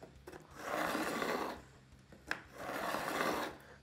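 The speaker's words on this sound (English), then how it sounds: "One edge rests on the fretboard like so, and then the file is at an angle" A fret beveling file rubs along the fret edges of an all-pine guitar, making two long, close, raspy scraping strokes separated by a short pause with a small knock.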